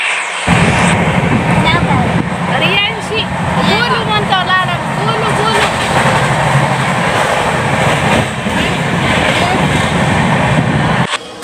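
A loud, continuous rumble of a moving train carriage with rattling and clatter, while people talk and a voice is heard over it.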